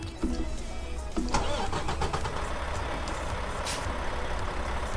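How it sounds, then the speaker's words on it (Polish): A truck engine starting in American Truck Simulator, a cranking start settling into a steady idling rumble with a short air hiss, heard up close with no talk. "Może silnik odpal, żeby światła były, czy coś."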